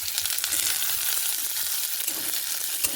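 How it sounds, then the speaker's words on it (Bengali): Chopped onions fry in goat fat after a cumin tempering, a continuous close hiss and crackle with light stirring underneath, no voices. "পেঁয়াজটা ভালো করে ভেজে নিই"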